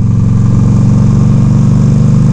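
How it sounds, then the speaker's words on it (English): A Yamaha V Star 950 motorcycle engine runs steadily and close, giving a loud, even, smooth low rumble throughout with no talking. "The engine's actually very smooth"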